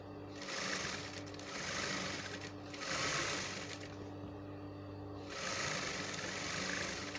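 A sewing machine stitches bias binding tape onto fabric, running in three steady bursts with brief pauses between, close and fairly loud with no talking.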